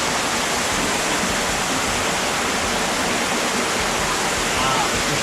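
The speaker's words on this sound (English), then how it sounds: "underneath there is where the spring comes out, and then it would power this mill" Spring water flows steadily at the Hodgson water mill in Missouri, a dense, even rushing roar close by that fills the whole clip without pause.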